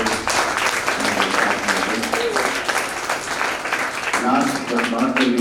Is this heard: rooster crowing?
no